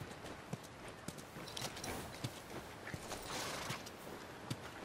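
Horse hooves clip-clop at a walking pace in The Last of Us video game, a steady run of light, near hoof strikes over a soft ambient background, with no talking.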